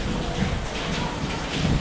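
Heavy rain falls steadily in Malir, Karachi, a dense continuous hiss of downpour heard close by without talk.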